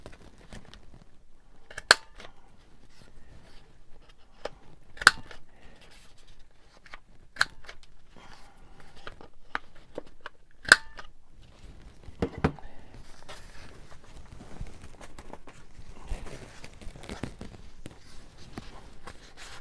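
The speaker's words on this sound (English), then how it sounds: "of course I'm going to do the corners, round the corners." A corner rounder punch clicks through paper card as the corners are rounded, giving four sharp, distinct snaps spaced a few seconds apart, followed by softer rustling and handling of the card.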